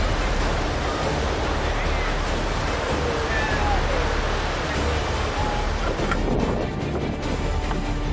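Continuous rushing surf of rough ocean waves breaking off Mauritania, loud and noisy throughout with water churning close by.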